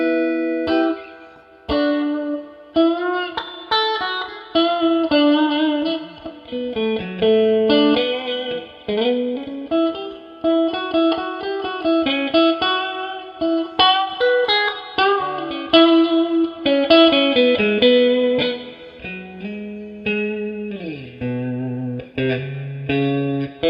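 An electric guitar runs through an effects unit with the amp switched to its second, clean position, playing a continuous sequence of picked notes and short chords, close and alone, with a faint shimmer of modulation and reverb.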